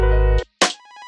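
A phone ringtone sounds at a forest guest house in Rajaji National Park: a brief electronic tone stops, then a bright chime follows with a few pulsing beeps, close and clear.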